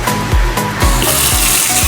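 Strong water flow gushing from a tap in a newly tiled dirty kitchen, a loud, close, continuous rushing stream with dull thuds underneath.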